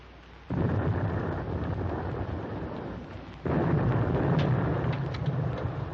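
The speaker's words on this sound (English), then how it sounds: "Our escort must be dropping depth charges." Deep underwater depth charge blasts in a 1944 WWII naval film, heard as two heavy rumbling booms that roll on as a sustained low roar, the second one swelling louder, with no voices over them.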